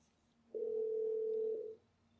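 A Yealink T42S VoIP phone sounds a single steady dial tone while placing a call, a clean sustained hum lasting about a second, quiet and alone.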